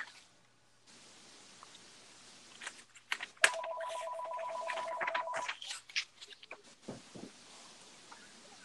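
A phone rings nearby with a steady electronic ringtone tone that holds for a couple of seconds, set against a quiet room with faint background shuffling before and after.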